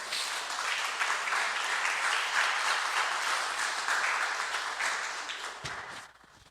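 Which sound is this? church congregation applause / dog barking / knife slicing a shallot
church congregation applause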